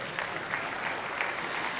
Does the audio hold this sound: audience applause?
yes